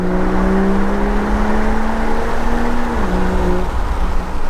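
Volvo V60 Polestar engine held at a loud, steady rev, its tone climbing slowly then dropping sharply near the end before settling at a lower pitch, with no talk.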